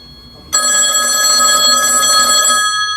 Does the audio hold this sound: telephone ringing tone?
yes